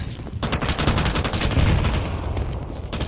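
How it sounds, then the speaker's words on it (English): A grenade in Counter-Strike 2 goes off amid dense, loud gunfire, with a heavy booming burst in the middle of the short, chaotic stretch of combat noise. "Throwing a grenade."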